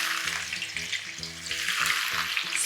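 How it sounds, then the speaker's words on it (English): Onions fry in hot oil for a chicken biryani, a loud, dense sizzle that crackles steadily and close up, with a faint low tonal hum underneath and no voices. "So let the oil get hot and then we'll fry the onions."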